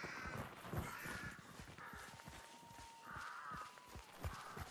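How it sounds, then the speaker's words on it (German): Crows caw repeatedly from several directions in the game Hunt: Showdown, harsh calls rising over a steady outdoor ambience with faint footsteps and a thin sustained tone. "Das sind noch Raben auf der anderen Seite."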